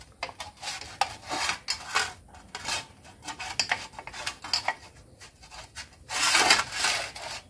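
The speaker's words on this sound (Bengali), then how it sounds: "এই থালাটাতে আমি ভালো করে সর্ষের তেল লাগিয়ে নেব" A metal plate rubbed with mustard oil, scraped and wiped close up in steady back-and-forth strokes, rasping and swishing, with a louder stretch near the end and no talk.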